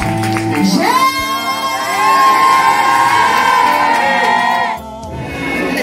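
Church congregation at a lively praise service cheering and acclaiming Jesus, a loud sustained wash of voices and shouts with a brief dip near the end before swelling again.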